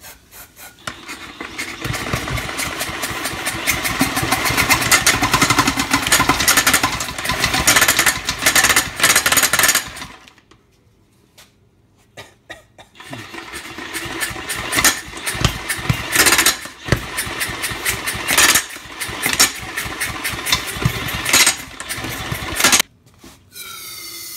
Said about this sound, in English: We're gonna use the impact and some carb spray and just spray it in there and see if she goes.